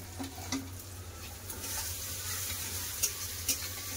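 Ginger-garlic paste frying with browned chopped onions in hot oil, a steady close sizzle with a few soft stirring scrapes and clicks, no voices.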